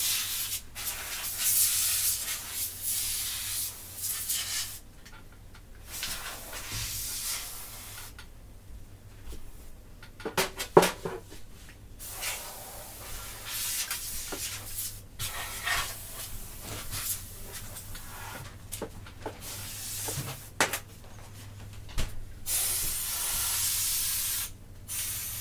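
Canned air blasting dust out of a PC, long hissing sprays in repeated bursts separated by short pauses, close and fairly loud with occasional clicks and knocks.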